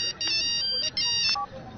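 A phone ringtone plays in a Hindi film scene, a bright electronic melody in short repeating bursts with brief gaps, loud and close.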